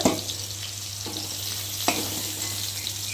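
Pointed gourd pieces frying in oil in a wok, giving a steady close sizzle with a couple of sharp clinks from a spoon against the pan.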